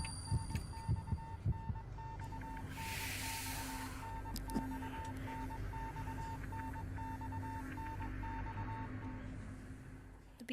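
A steady electronic beep repeating at an even pace in the horror game Death Mark, faint and constant under a low droning ambience, with a brief hiss swelling partway through before the beeping cuts off near the end.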